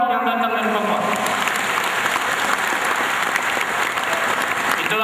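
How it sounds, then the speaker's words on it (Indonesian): Audience applause at a university graduation ceremony, a broad continuous patter of many hands clapping from start to finish, with a voice briefly heard at the very beginning. "Tepuk tangan untuk orang Papua yang datang dari Papua."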